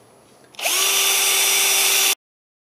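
A power drill suddenly whirs up to a steady, loud high-pitched spin with a brass wire brush scrubbing debris off motorcycle brake parts, runs for about a second and a half, then stops abruptly.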